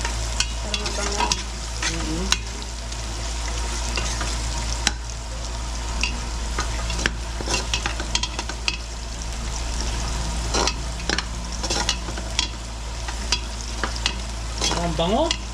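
Beef spareribs browning in a frying pan, a steady close sizzle with repeated scraping and stirring strokes throughout, no voices.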